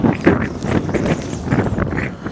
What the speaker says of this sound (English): The wind in the desert.